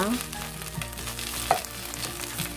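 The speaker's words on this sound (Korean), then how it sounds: "중약불에 넣고 살살 볶아서 물기가 없을 때까지 볶아주시면 됩니다" Salt-and-pepper-seasoned shiitake mushrooms sizzle as they are gently stir-fried over medium-low heat, a continuous close frying hiss broken by soft spatula scrapes and stirring taps.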